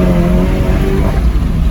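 A 400hp Volkswagen Golf GTI accelerates hard in second gear, with a loud, dense engine roar mixed with rushing wind noise across the whole short stretch.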